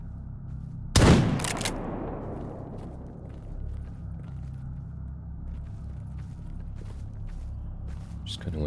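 A single loud gunshot in STALKER GAMMA cracks close by and rolls away into a long echoing decay over low ambient rumble, followed by faint scattered clicks and small noises.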